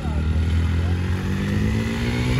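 A Hero Splendor motorcycle stuck on a slope in the Aravali Hills near Gurugram strains with a loud, sustained engine drone and rising revs, close by, with voices in the background.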